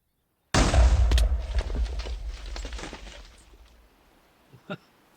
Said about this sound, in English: I walked off a cliff to avoid that explosion.